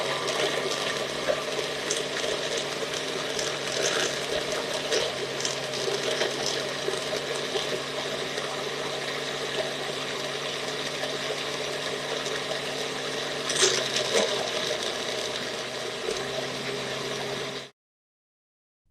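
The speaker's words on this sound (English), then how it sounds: "Insert it on the NutriBullet machine. Just for 15 seconds to 25 seconds." NutriBullet blender whirring steadily as it blends carrots and cucumber, a continuous loud motor drone with grinding texture lasting about seventeen seconds before cutting off abruptly.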